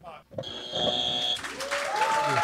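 A button triggers a canned applause effect in a podcast studio, a burst of clapping that follows a short electronic jingle, with voices talking over it.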